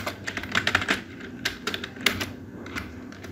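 Keystrokes on a computer keyboard while configuring BGP on a Cisco router, quick irregular clicks in short bursts with pauses, close and fairly quiet, no talking.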